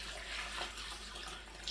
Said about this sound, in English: And I'll add another gallon. So it's 2 gallons of water to this.